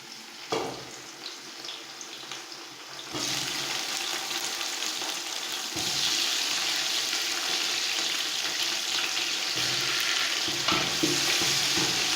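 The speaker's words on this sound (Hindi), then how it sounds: "इसमें हम चिकन डाल देंगे।" Raw chicken dropped into a pan of browned onions for Punjabi chicken pulao, bursting into a loud steady sizzle that keeps going, with stirring scrapes now and then.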